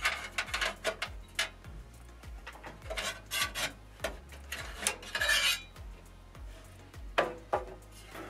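The back plate of a Mac Pro is pulled off, giving a series of faint metallic clicks and scrapes at an irregular rhythm, quiet, with no talk.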